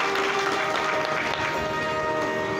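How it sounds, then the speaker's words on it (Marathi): An audience at a kirtan gathering in Burudgaon village claps steadily in thanks for a respected elder, a dense continuous wash of applause close by, with a faint sustained tone running underneath. "सर्वांनी एकदा दादांना टाळ्या वाजवून धन्यवाद द्यायचे आहे."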